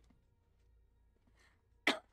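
One short, sharp cough from a person with a sore throat breaks an otherwise quiet room, coming after a soft breathy rustle.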